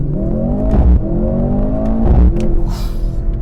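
A 2024 Mercedes-Benz C63 AMG accelerating in first gear, its engine note rising in loud, close pitch sweeps that twice drop and climb again like quick shifts, with no voices.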